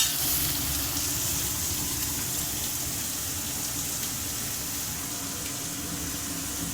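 Two medium onions fry in a pan of hot oil for berakaya (bottle gourd) curry, giving a steady, even sizzle that holds at the same level from start to finish.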